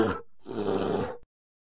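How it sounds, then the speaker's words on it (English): A bear lets out a deep, drawn-out roar, loud and close, lasting about a second before cutting off into silence. "Bear."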